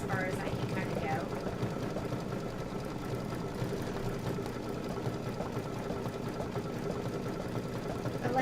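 A Deco Bob sewing machine piecing quilt blocks hums at a low, steady level throughout, a soft continuous motor drone with faint rhythmic stitching underneath.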